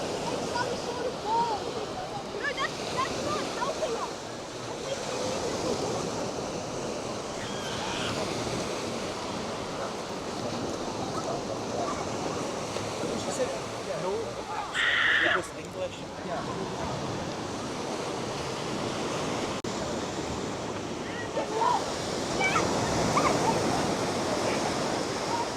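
Steady wash of sea waves at Folkestone Harbour beach with the tide in, a constant surf hiss with some wind noise and a few faint voices in the background.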